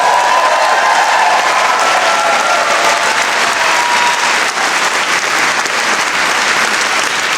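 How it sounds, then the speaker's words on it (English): Sustained applause from a graduation audience in a hall at an art, design and media faculty ceremony, dense steady clapping holding loud and even throughout with a faint crowd murmur underneath. "Give yourselves a big clap."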